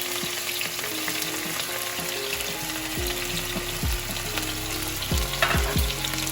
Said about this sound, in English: we're gonna put in our scallion first. And it's gonna sizzle up.